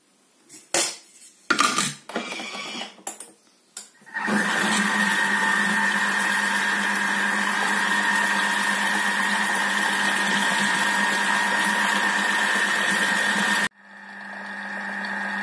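After a few clicks and knocks, a kitchen cooking robot heating at 90 degrees on speed 3 to make a chocolate dessert cream starts up with a steady, loud motor whir. The whir holds for about ten seconds, stops abruptly, then a fainter hum rises.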